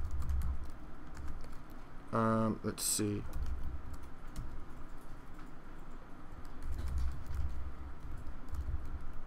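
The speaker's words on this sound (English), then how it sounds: "And I'm gonna start typing my information." Typing on a computer keyboard while entering a name and title for a business card: a steady patter of soft, close key clicks, with a voice briefly speaking near the start.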